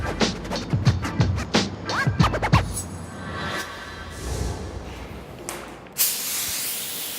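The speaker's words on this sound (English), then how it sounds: "I just sprayed the filler just to let those suck in all that primer." A spray gun lays filler primer onto car body panels, delivered in several short hissing bursts, then a longer softer spray and a final sustained hiss, close and with no talking.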